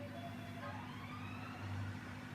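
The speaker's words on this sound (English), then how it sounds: "Sorry if you can hear that siren." An emergency siren wails faintly through an open window, a thin rising and falling tone over a low steady hum from a fan indoors.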